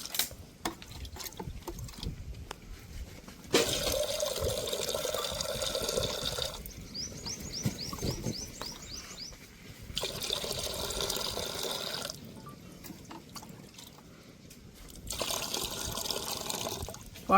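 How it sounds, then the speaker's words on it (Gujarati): Water pours into a pot set on a stove for boiling toor dal. The pours come in separate bursts of splashing and filling, with quieter gaps and handling noises between them. "આપણે એમાં નાખશું પાણી."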